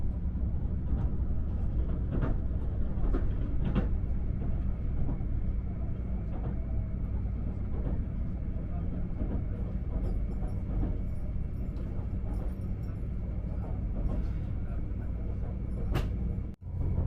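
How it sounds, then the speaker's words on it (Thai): A diesel railcar engine drones steadily from inside a train running through rural Japan, a low continuous rumble with faint rattles and clicks, quiet and without talking. "รถไฟขบวนนี้จะเป็นแบบดีเซลรางครับก็จะได้ยินเสียงเครื่องยนต์ดังนิดนึงครับ"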